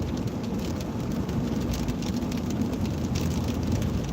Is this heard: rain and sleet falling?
yes